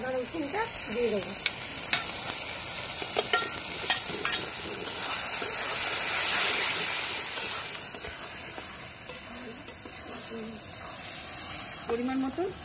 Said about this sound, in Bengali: এবার আদা রসুনটা দিয়ে দেবো।